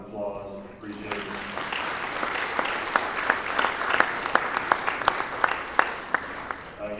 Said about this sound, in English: if we give him another round of applause